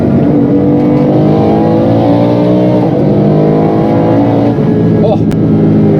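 A BMW M3 E46 fitted with a V10 engine and DCT gearbox revs loudly inside the car, its harmonic engine note sweeping up and down with a brief sharp blip near the end.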